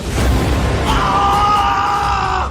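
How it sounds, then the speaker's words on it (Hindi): A man lets out a loud, drawn-out scream of anger and pain, rising from a rough bellow into a sustained strained yell, close and alone. "आखिरकार गुस्से में झल्लाकर चीखा"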